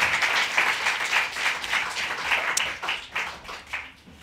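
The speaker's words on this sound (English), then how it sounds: "Applause for Ron Koertge, please." Audience applause at a poetry reading, a crowd of many hands clapping steadily, fairly close and full, then thinning and fading toward the end.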